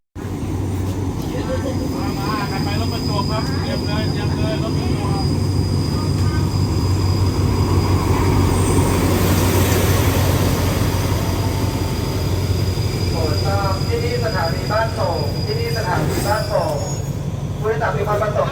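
A train pulls into Ban Pong station in heavy rain, its steady rumble and rushing rain loud throughout, a thin wheel squeal above it. A station announcement in Thai plays over the noise.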